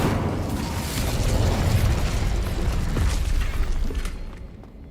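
Casting the Incendio fire spell in Hogwarts Legacy sets off a loud, rumbling burst of flame, a dense whooshing roar that swells and then fades away near the end.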